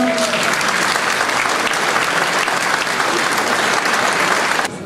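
Steady, dense applause from a civic New Year's greetings audience in Port-Saint-Louis-du-Rhône, sustained and loud for several seconds before cutting off abruptly near the end.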